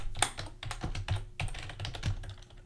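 Fingers tap briskly on a computer keyboard in a close, uneven run of clicking keystrokes, with brief pauses between short bursts and no voices.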